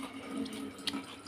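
Water runs from a tap in a brief steady hiss and splash, moderately close and fairly quiet, with a small clunk near the end and no talk.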